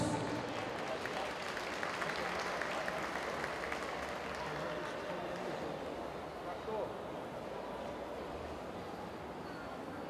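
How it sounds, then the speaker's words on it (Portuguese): An audience at a Japanese culture festival talk applauds, a quiet, steady patter of many hands clapping at a distance that holds for about ten seconds with faint background murmur. "Uma salva de palmas."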